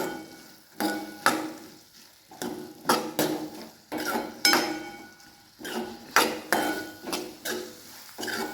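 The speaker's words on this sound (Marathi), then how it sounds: "आपण ह्याच्यामध्ये धुतलेलं हे वालाची शेंगा टाकून देऊया ह्यालाही पाच मिनटं मसाल्याचं फ्राय करून घ्यायचे" Washed val bean pods frying in oil and masala in a pan, with repeated sharp scraping and clinking of a spatula against the metal as they are stirred, irregular strokes over a low sizzle, close and fairly loud, no talk.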